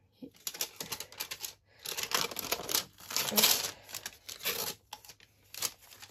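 Several close, rasping bursts of adhesive tape being pulled and torn off a mug, separated by short quiet pauses.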